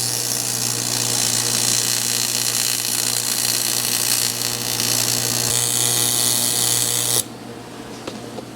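Loud, continuous whine of a power tool grinding out a broken aluminum bolt hole for about seven seconds, then cutting off abruptly and leaving a quieter hum with faint clicks.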